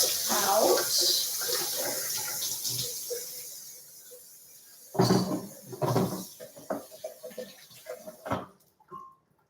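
Quinoa is rinsed under a running kitchen tap, a steady close rush of water that tapers off, followed by scattered clunks and clatters of cookware being handled.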